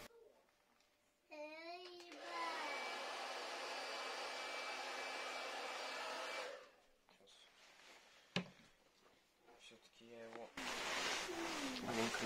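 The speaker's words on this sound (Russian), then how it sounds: "чтобы мне было попроще феном, получается, разогревать клей" A handheld hair dryer heats glue during a fan swap on a giant inflatable costume doll, droning steadily for several seconds at close range before switching off, with light handling noise and a brief click afterward.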